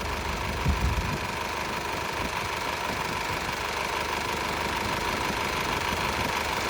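A Honda City with about 1.5 lakh km on it idles steadily while carbon cleaner is fed slowly into the engine, giving a constant mid-pitched hum and faint knocking with a slight bump near the start.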